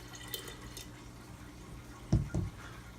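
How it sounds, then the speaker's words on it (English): Water poured onto sprouting microgreen seeds in a mesh-topped jar, a short splashing gush near the end after a quiet stretch with faint drips. "we're going to take more water, pour it right in there."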